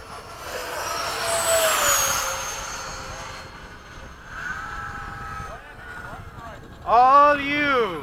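A Freewing 80mm MiG-21 RC jet passes overhead, its turbine whine swelling near then fading off, with a sharper rising whine later on; people talk over it.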